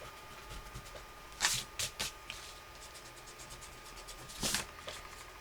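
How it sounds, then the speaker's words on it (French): An eraser rubbing pencil measurement marks off paper for a tea-bag mini album, a few short, faint scrubbing bursts separated by quiet pauses. "Ici, je vais gommer mes petites mesures."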